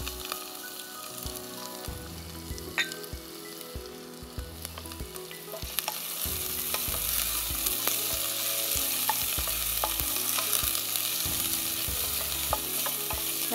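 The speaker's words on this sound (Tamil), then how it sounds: "இப்போ இது நல்லா பொரியட்டும்" Whole garam masala spices fry in hot oil in a pan, first as a soft crackle and then as a louder, dense sizzle with a few clinks of stirring, close up with no talking.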